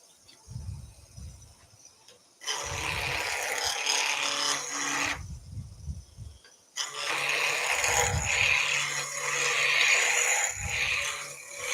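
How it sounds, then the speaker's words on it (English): On a wood lathe, a very blunt skew chisel roughs a spinning wood blank down to a cylinder. It makes a raspy scraping roar in two long bursts, with the motor's low hum and rumble running between the cuts. "We're going to rough it down to a cylinder with a very blunt skew chisel."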